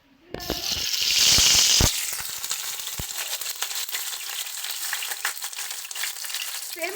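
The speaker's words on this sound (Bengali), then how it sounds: "এদিকে আমাদের তেলও গরম হয়ে গেছে এবার এক এক করে আমরা এটাকে তেলে দিয়ে দেবো" Small fish fritters wrapped in pumpkin leaves hit hot oil with a loud, hissing burst and crackle, then settle into a steady, quieter sizzle with scattered pops.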